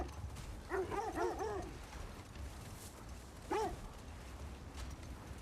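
Sled dogs in God of War Ragnarok give a couple of short barks or yips, one brief burst early and another a few seconds later, moderately distant over low rumbling ambience.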